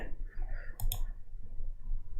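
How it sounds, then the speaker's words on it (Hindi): Two quick, crisp computer mouse clicks close together during a CorelDRAW graphic design session, close and clear over a faint room hum, with no talk. "राइट क्लिक कर रहा हूँ"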